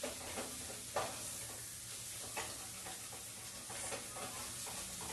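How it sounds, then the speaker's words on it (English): A spoon stirring spices in a pot of dhal with tomato paste, scraping across the bottom in soft, repeated strokes over a quiet, steady sizzle. "as you stir, make sure you scrape the bottom of your pot so that you're pulling up all those spices"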